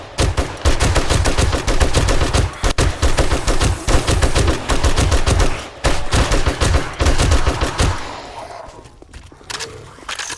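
Rapid automatic gunfire from a run-and-gun shooter game, loud and close in sustained bursts with brief pauses, tapering off near the end into quieter background noise.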